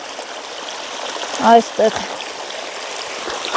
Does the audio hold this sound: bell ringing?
no